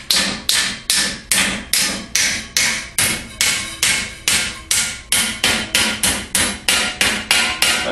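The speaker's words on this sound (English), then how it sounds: "so I'm just kind of tapping it down a little bit, not real hard" A hammer taps repeatedly on a metal grass director clamped in a vise and bent to 90 degrees for a Cub Cadet garden tractor blade shroud, giving about sixteen sharp, evenly spaced, ringing metallic strikes, loud and close.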